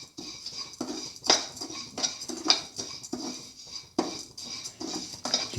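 Utensil stirring pasta and cardamom in a pan, a run of repeated metallic scrapes and clinks at an uneven rhythm, close by, with no talk.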